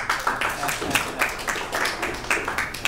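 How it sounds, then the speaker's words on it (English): An audience at a live comedy show in a club claps steadily, dense rapid applause at moderate loudness that holds evenly throughout. "Give yourselves a round of applause."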